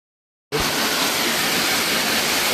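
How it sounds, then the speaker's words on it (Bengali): R11 refrigerant being forced under pressure through the line of an AC outdoor unit during flushing: after half a second of silence, a loud, steady, broad rushing hiss starts abruptly and holds without a break. "এই যে ফ্লাশিং চলতেছে আমাদের"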